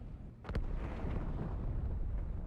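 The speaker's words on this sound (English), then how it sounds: "I never noticed the other station blow up until I saw it" A station blows up in the Halo video game, a sudden loud blast that opens into a sustained, broad rumbling roar continuing to the end.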